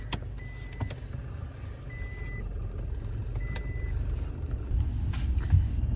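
Lorries pull in to collect lambs at a farm, a low steady vehicle engine drone with scattered clanks and a few faint tonal beeps, rising slightly in level toward the end.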